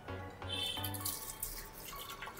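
Water running from a tap to wash a statue clean, a steady soft splashing and trickling stream at moderate distance, alone without talk.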